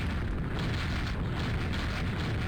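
A rocket explodes in a video game as a dense, rumbling boom that fills the whole moment with deep, continuous roar and crackle, loud and without speech.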